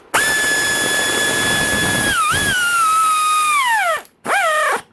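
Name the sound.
power driver spinning down bolts on KTM 250SXF top end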